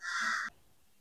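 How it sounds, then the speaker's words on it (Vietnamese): A single loud crow caw, harsh and close, lasting about half a second, made as the crow hops down demanding food while a small owl is being fed nearby; quiet follows. "Quạ nó thấy đang cho cú ăn nên là nó nhảy xuống cầu nó ra đây nó đòi ăn rồi các bạn"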